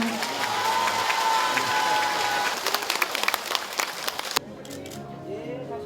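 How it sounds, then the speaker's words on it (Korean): A crowd at a Korean district Seniors' Day ceremony applauds loudly with some cheering, the clapping thinning into scattered claps before cutting off abruptly. "큰 박수로 축하해 주시기 바랍니다"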